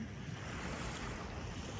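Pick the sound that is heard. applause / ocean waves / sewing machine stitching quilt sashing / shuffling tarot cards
ocean waves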